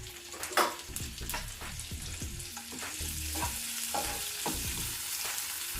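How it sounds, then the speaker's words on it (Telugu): Chopped tomato cooking with gongura in a hot pan, a continuous crackling sizzle with repeated spatula scrapes and knocks against the pan in an uneven rhythm, close and clear. "ఈ టమాటా కూడా మెత్తబడే వరకు ఉడికించుకోవాలి"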